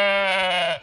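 A single loud, close sheep bleat, a wavering nasal cry lasting under a second and trailing off at the end.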